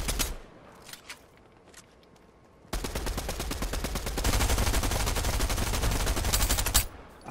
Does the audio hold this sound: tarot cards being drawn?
no